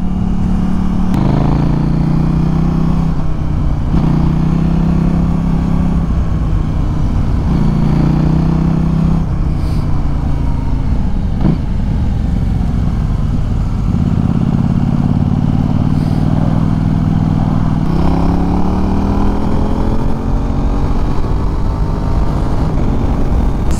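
KTM Duke 790 motorcycle ridden on an open road, its engine droning steadily with repeated gear shifts and rising revs, constant wind rush throughout, no voices.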